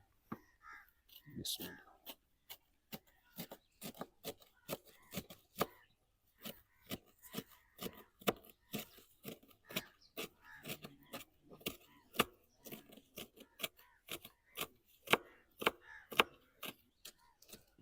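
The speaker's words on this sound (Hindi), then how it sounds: "और अब इसे ब्रीक चॉप कर लेते हैं छुरी की मदद से" Knife chopping fenugreek (methi) leaves on a board, a long run of crisp, quick, close taps in an uneven steady rhythm, with a soft voice now and then.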